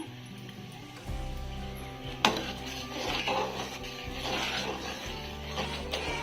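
A spoon stirs boiling water with cumin in a cooking pot while poha papads are made, giving quiet scraping and a sharp metallic clink over a soft bubbling background.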